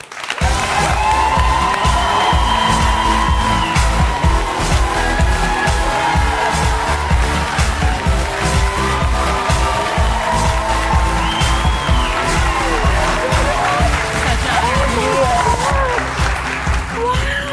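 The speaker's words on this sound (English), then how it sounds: "Now I'll give her the applause she deserves." A television studio audience applauds and cheers loudly as a guest walks out on a talk show; sustained, dense clapping with whoops and shouts throughout, and voices calling over it.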